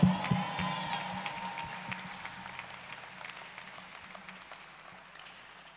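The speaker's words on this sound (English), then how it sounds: "Give the Lord a clap offering." Church congregation clapping and cheering at a Sunday worship service, a loud burst of applause with whoops over a sustained hum of sound, gradually fading over several seconds.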